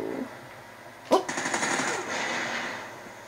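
A turret machine gun firing in the Call of Duty: Ghosts video game: a sharp onset, then a sustained, rapid burst of rattling shots that holds steady at a loud level.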